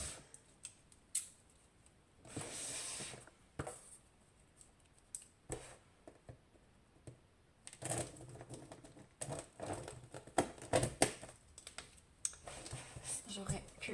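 A Diamond Art Club diamond painting kit of the Statue of Liberty is unwrapped by hand, making scattered rustles, crinkles, taps and brief tearing bursts of packaging, close and irregular, with a voice speaking softly at times.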